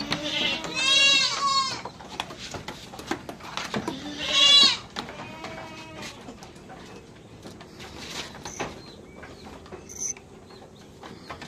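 Thin goats bleat during injections on a farm, two loud wavering cries close by, then quieter rustling and handling noises with occasional softer calls.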